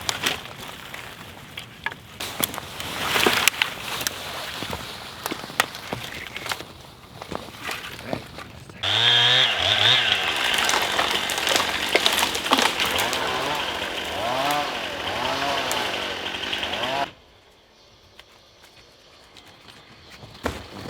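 A chainsaw fires up for harvesting trees to build a log cabin: handling and footstep sounds first, then a loud, close engine whine that revs up and down for several seconds before cutting off abruptly.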